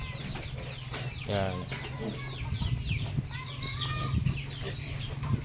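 Brown DeKalb and Rhode Island chickens housed together in an under-house coop, clucking and chattering with bird calls over a steady low hum, while someone talks briefly nearby.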